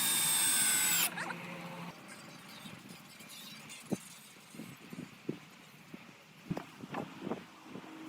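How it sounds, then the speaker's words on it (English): A power drill whirs loudly for about a second drilling wood, then stops, followed by scattered knocks and clatters of cabin building in a windy, snowy outdoor space. "Power tools speed up the installation process"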